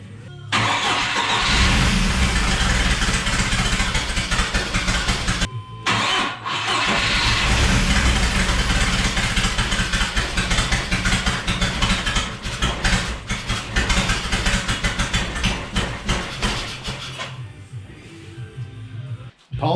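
A Mercruiser Turbo 3.0 boat engine fitted with new spark plugs runs loud and close, a dense continuous roar that cuts out briefly twice, with the throttle rising and falling throughout.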